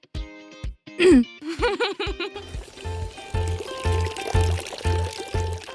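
Water pouring into a bath in a hotel setting, a steady rushing pour under a playful musical tune with bouncy notes and a cartoonish voice-like squeal early on.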